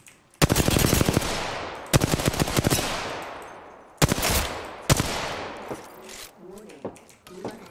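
Automatic weapon fire in Apex Legends during a squad fight: four sharp bursts of rapid shots, each ringing out with a long decaying tail, followed by quieter scattered sounds toward the end.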